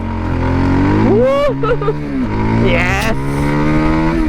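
A Voge 300 Rally motorcycle with a 28-horsepower engine revs hard through a 0 to 60 run, its engine note climbing and shifting through gears, loud and close, with a rider shouting excitedly over it.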